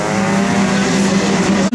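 Race cars crossing the line at the end of the opening lap of a motorsport event at Genk, loud roaring engines passing close in a continuous rush with a sharp cutoff at the end.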